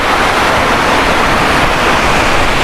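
Marachuvadu waterfall in Idukki pours as a loud, dense, unbroken roar of rushing water, close by and steady throughout, with no voices.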